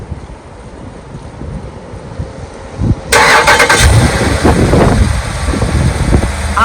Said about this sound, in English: if I press this button here, I will be able to remote start the vehicle